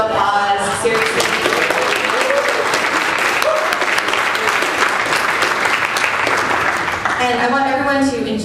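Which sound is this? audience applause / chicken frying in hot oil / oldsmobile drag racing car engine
audience applause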